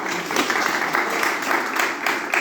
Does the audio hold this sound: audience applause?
yes